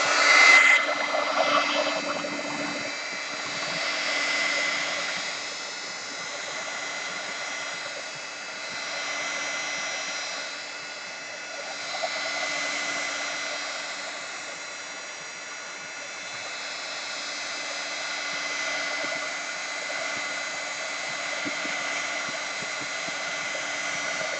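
A hair dryer blows steadily on a watercolor painting in a hot press watercolor journal, a continuous close whooshing hum that runs unbroken with slight swells for the whole stretch.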